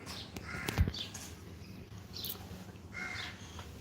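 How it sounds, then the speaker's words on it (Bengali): A crow caws a few times outdoors, harsh calls at a moderate distance and fairly quiet, spaced out over a faint background. "এই কাকের শব্দটা আমার ভালো লাগছে।"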